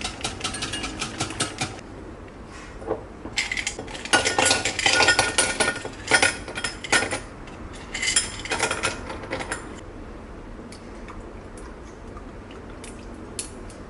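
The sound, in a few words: whisking coffee mixture into cream for dalgona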